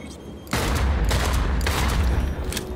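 Rapid gunfire from a weapon in Cyberpunk 2077 bursts in suddenly after a short quiet start and continues as a dense, loud volley, easing slightly near the end.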